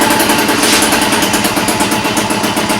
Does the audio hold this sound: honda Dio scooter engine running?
yes